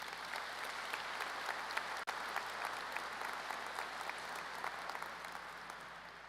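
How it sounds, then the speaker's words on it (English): Sustained audience applause at a high school graduation ceremony after a musical performance, a dense, even wash of many hands clapping that carries on throughout, fairly distant. "Let's give them a round of applause for sharing their talents with us."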